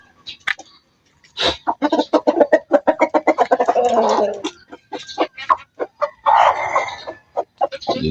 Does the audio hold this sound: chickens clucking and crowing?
yes